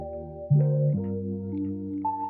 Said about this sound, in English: piano loop that I liked, or a chord loop that I liked